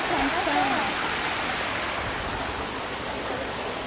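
Konoko waterfall in Ocho Rios, Jamaica, gives a steady, broad rush of falling water that fills the whole stretch at an even, fairly loud level, with a brief murmur of voices near the start.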